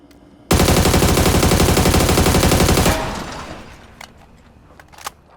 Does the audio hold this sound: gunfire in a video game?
yes